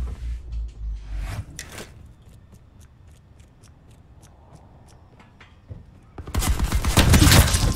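Shotgun blasts from Call of Duty Black Ops 4 gameplay arrive as a few sharp, loud bursts. Short clicks and handling sounds fall between them, and a dense, noisy burst of firing closes the stretch.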